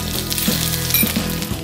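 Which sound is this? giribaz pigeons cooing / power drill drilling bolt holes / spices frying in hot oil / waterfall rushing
spices frying in hot oil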